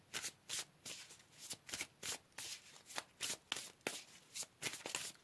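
Tarot cards shuffled and riffled by hand during a pick-a-card reading, a steady run of about a dozen crisp papery bursts in quick rhythm, close and fairly quiet with no talking.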